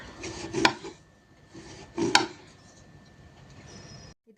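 A knife cuts bitter gourd into thin rounds, giving two sharp, close chopping knocks about a second and a half apart with quiet scraping between, no voices.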